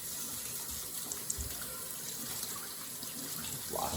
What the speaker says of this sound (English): I'm actually gonna rinse off and wash a spatula real quick